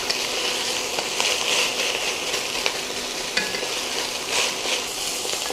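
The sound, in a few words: sautéing peppers and onions in a pan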